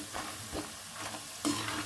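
Gram-flour coated peanuts frying in oil over low heat, a quiet, brief bubbling sizzle with a stirring scrape near the end, without any talk.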